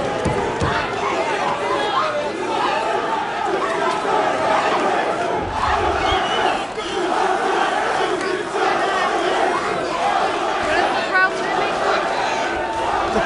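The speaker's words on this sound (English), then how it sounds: "The crowd is screaming Jacare's name." Crowd at a live MMA event in Atlanta, Georgia, loudly shouting and chanting a fighter's name, a dense continuous roar of many voices throughout with cheering swells, close and sustained.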